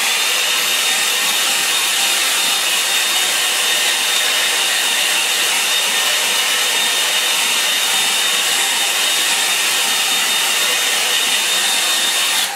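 A hair dryer blows steadily and loudly at close range for the whole stretch, drying a watercolour painting of a Scottish loch, a constant whooshing roar with no pauses.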